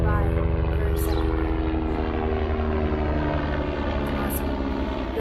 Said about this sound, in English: It's a loud helicopter, so I'm going to let it go by for a second.